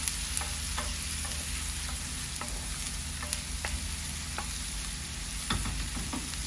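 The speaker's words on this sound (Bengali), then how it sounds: "রসুন দিয়ে দিলাম, কষায় রসুনটা দিয়ে কষায়" Garlic fries in a pan with a soft, steady sizzle, broken by light scraping and stirring clicks as it cooks. It is close and fairly quiet, with no talk.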